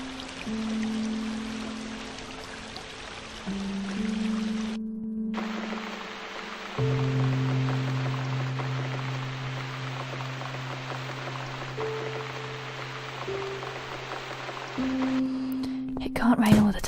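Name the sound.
rain falling in The Cat Lady video game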